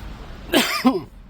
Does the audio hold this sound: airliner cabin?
no